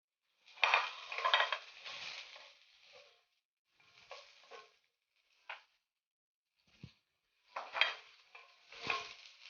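Onions frying in a pan for kinamatisang pork liempo: quiet bursts of sizzle and stirring come and go with silent gaps between, plus a few faint utensil taps.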